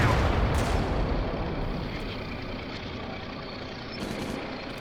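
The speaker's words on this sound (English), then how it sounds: "I guess I'll spare an armor-piercing shell to take that thing out." A BT-5 Mod. 39 tank in the Steel Fury video game fires an armor-piercing shell: a loud, deep blast opens, then a broad rumbling roar slowly fades away with no voices.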